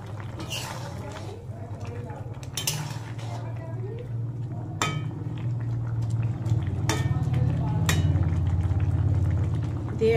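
Small mourola fish going into a pot of simmering liquid, with steady bubbling and sizzling under intermittent clinks and scrapes of utensils against the pot, and a voice speaking in the background.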